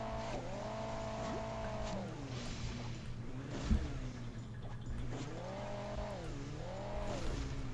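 Rally car engine in the Hill Climb Racing 2 video game, droning steadily and rising and falling in pitch as the car revs and eases off, with a brief thump midway.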